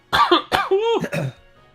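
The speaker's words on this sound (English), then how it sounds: "Got some hot coughing to start the stream off." A close, loud burst of three or four harsh coughs with throat clearing, then quiet.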